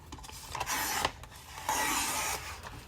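Paper card bases being trimmed to 11 inches, heard as soft rubbing and rasping cutting strokes in two main passes with brief pauses between, quiet and close, with no speech.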